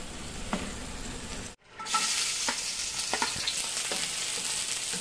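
Bagoong shrimp paste fries in oil with a steady close sizzle, broken by a brief silent gap and then sharper stirring scrapes and crackles over the spattering.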